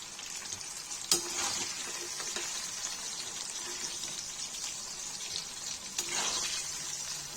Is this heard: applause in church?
no